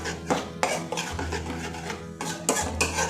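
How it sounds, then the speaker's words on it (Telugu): Egg curry being stirred after fresh cream, kasuri methi and salt go in, with repeated scraping and clinking of a utensil against the pot, close and fairly steady with no talk. "మిక్స్ వేసుకోండి రోంతా."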